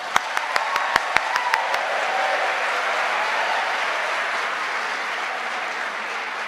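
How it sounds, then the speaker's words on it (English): A graduation audience practises a loud round of applause: a few sharp isolated claps at first, then a dense, sustained wave of clapping from a large crowd. "giving the biggest, loudest round of applause every time one of the names are announced"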